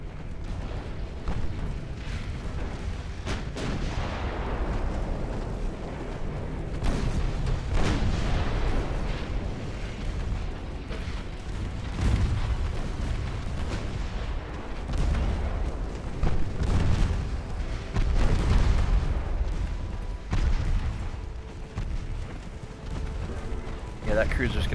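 Heavy naval guns firing in Ultimate Admiral Dreadnoughts, repeated deep booms and rumbling salvos spread irregularly across the stretch, with someone talking intermittently over the distant-sounding barrage.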